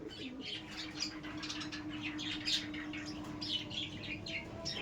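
Giribaj pigeons fluttering and shuffling close by, with soft wing flaps and faint chirps over a steady background hum; no voices.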